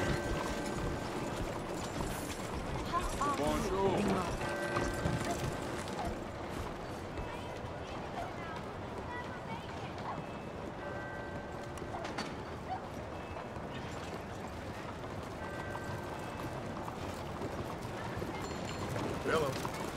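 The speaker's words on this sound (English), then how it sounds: "Arre, caballo." Horse galloping in Red Dead Redemption 2: continuous, fast rhythmic hoofbeats at a steady mid-level loudness, with game ambience and voices talking over them throughout.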